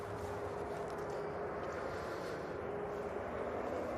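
A Ryanair Boeing 737-800 arriving from Valencia touches down at Manchester Airport, a steady, broad jet roar that holds loud and constant throughout with no talk over it.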